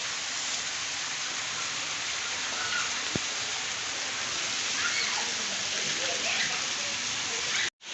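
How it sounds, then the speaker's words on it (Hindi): Heavy rain pours steadily over a flooded residential lane, a dense continuous hiss of drops and splashing water with no break, close and enveloping. "बारिश देखें काफ़ी ज़्यादा शुरू हो गया।"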